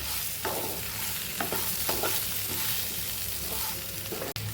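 Potato farali dish with lemon juice and fresh coriander being stirred in a pan, a steady soft sizzle under repeated scraping strokes of the spoon, close and alone.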